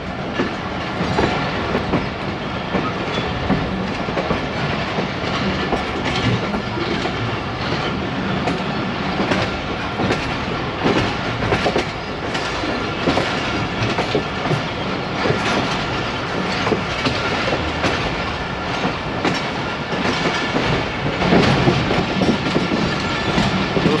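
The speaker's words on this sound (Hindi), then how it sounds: "ट्रेन हमारी इस वक्त रावलपिंडी रेलवे स्टेशन के यार्ड में से निकल चुकी है" Rehman Baba Express pulling out of the Rawalpindi railway station yard on Main Line 1, wheels clattering steadily over rail joints with continuous rolling rumble and occasional faint squeal, loud and close throughout.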